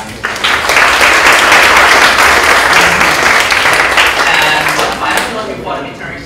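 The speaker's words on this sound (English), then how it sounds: "let us give another round of applause to Ajahn" A lecture audience applauds for the lecturer Ajahn, a loud, sustained round of clapping from many hands that swells quickly, holds, then tapers off, with some voices mixed in.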